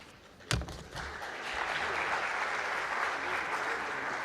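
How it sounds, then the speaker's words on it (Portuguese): An audience at a live event breaks into applause after a sharp opening clap, the clapping swelling into a steady, moderately distant crowd ovation that holds to the end. "Aplausos devem ser de pessoas que realmente comeram alguma coisa."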